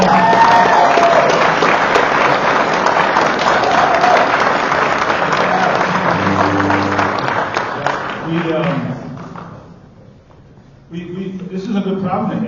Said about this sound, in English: let's have a round of applause for it.